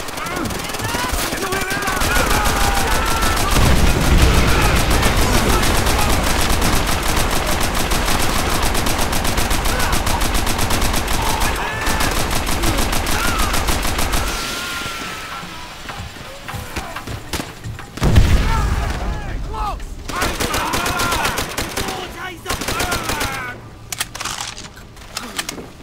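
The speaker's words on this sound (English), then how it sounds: "Open fire! Miller, man that MG!" Rapid machine gun bursts rattle through a Call of Duty: World at War battle, continuous loud firing mixed with explosions and shouted voices before thinning out into scattered shots.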